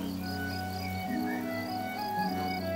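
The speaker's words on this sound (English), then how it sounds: "with the sun, a huge array of insects return to the" Insects drone and buzz around wildflowers in Turkey, a continuous layered hum of steady tones with a higher whining buzz over it, close and unbroken throughout.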